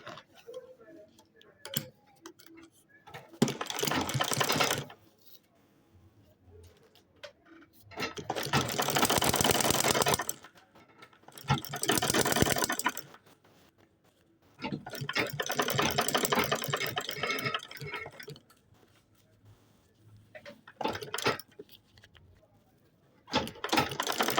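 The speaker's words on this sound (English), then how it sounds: "So you just sew it round." A sewing machine stitching around the lining of a water bottle bag, running in several bursts of rapid mechanical whirring separated by quiet pauses, close and clear.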